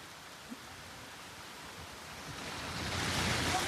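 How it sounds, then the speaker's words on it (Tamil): Strong wind and rain lash a lorry hauling an onion load on the road to Madurai, a steady broad roar that swells louder toward the end with no voices. "காத்து மழை சரியா அடிக்குது."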